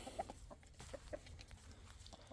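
Loose chickens and roosters on an off-grid homestead, with a few soft, brief clucks over steady outdoor background noise.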